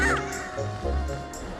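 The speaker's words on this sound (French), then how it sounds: "L'oiseau, il est bien fait, hein, franchement." A bird caws in the video game Zelda Wind Waker, a short harsh call at the start followed by low game sound.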